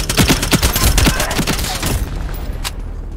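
Rapid bursts of AK rifle fire in a team deathmatch video game on the Tower map, sharp repeated shots in quick succession that fade out into quieter game ambience.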